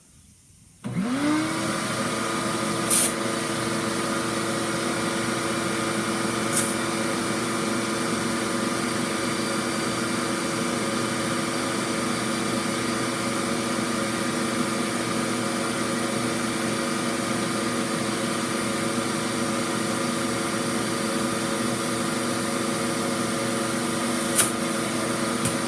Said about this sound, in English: Now, I should be able to turn on the shop vac, inflate this tire,